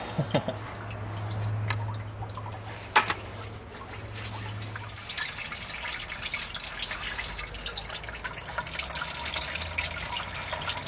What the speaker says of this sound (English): Now the next step is to let this drain so we can reuse the same water.